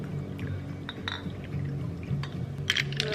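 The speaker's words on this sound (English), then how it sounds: "2/3, 3/4, and then sparkling water just to top it off" Sparkling water poured into a glass of tart cherry juice, with soft fizzing, light clinks and a bright trickle near the end, close and quiet.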